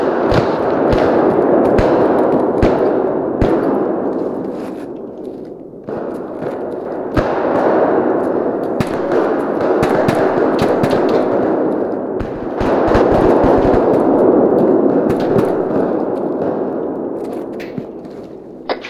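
Gunfire in the military simulation game ArmA 3: repeated sharp shots and heavy thumps crack over a dense, continuous roar of battle noise, coming in irregular bursts across the whole stretch.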